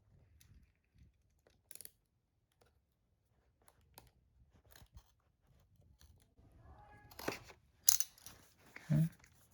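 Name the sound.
tearing open Remarkable 2 tablet packaging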